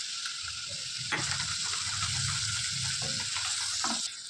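Ginger, garlic and green chillies sizzling in hot oil in a pan while making chicken momos, a steady loud crackling fry with occasional stirring clinks and scrapes.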